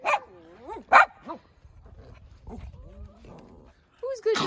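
A pack of Cavalier King Charles spaniels plays outdoors at sunrise, giving sharp, close barks with yips and whines in between, separated by quiet gaps.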